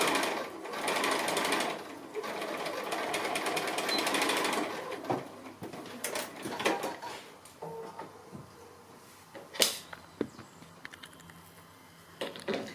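A sewing machine stitches a row of fabric with backstitching at the top, giving a close, steady mechanical whir for several seconds, then short stop-start bursts of stitching with small clicks between.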